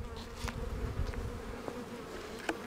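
Honeybees buzz around an open beehive during a spring inspection, a soft, continuous hum of many insects close by, with a few brief clicks and knocks from the frames.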